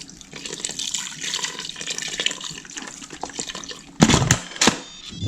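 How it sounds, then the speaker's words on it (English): Chicken broth poured into a pot while cooking birria, a steady close liquid pour with splashing and gurgling, ending in a couple of louder sloshing bursts, no voices. "I'm going to just pour a little bit of chicken broth in there."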